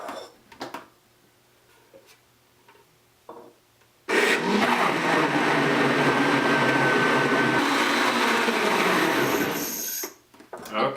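A kitchen blender whirs through hot tomato soup, starting abruptly after a few quiet moments with faint talk and running loud and steady for about six seconds before cutting off.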